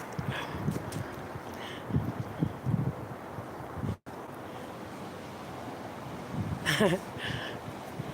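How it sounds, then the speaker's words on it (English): Soft, warm wind blows outdoors as a steady, breathy rush against the microphone, broken by a brief dropout and a few faint thumps and gusty peaks. "Just being playful with the wind because it's nice and soft and warm out here."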